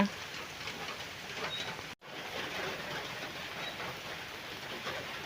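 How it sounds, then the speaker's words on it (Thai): Soft, steady hiss of light rain falling outdoors, broken by one brief cut to silence partway through. "ฝนโปรยมาแล้วจ้า"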